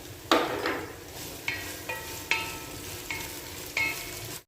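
Garlic and ginger fry in a pan with a steady sizzle, punctuated by about six spoon scrapes and taps against the pan at irregular intervals, close and clear, with no talking.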